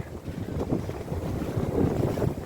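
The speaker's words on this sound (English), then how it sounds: "The wind started to pick up." Gusty wind buffets the microphone aboard a sailboat, with water sloshing against the hull in an uneven, continuous rush.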